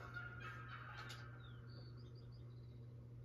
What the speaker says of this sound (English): Where are these turkeys?